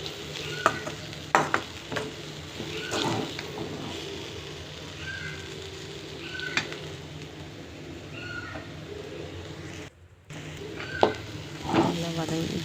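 Grated coconut and turkey berries sauté in a pan, giving a soft, low sizzle with intermittent scraping stirs of a spoon against the pan, fairly quiet and close, with a brief dropout partway through.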